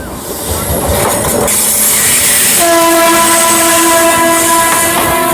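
Seemanchal Express passenger train passing on an Indian railway line near Prayagraj Junction, a loud, close, steady rumble of rolling wagons with a sustained horn tone joining partway through.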